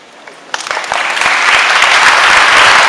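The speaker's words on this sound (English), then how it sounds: "I'd ask you to continue to clap." Applause at a community meeting on Hurricane Matthew, starting with a few scattered claps and swelling into dense, sustained clapping from a large crowd indoors, loud and close.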